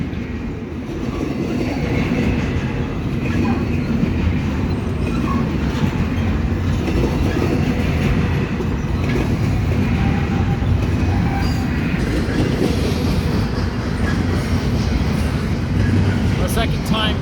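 A long Norfolk Southern intermodal freight train, hauled by Dash 9 locomotives, rolls past nearby westbound in a continuous heavy rumble with faint rhythmic clatter and occasional squeals, steady throughout.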